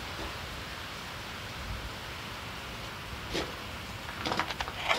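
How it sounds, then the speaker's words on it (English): Soft, steady rain hiss in the background, faint and even, with a few brief sharper drips near the end. "it's still raining right now"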